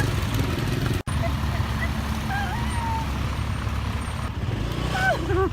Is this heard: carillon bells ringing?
no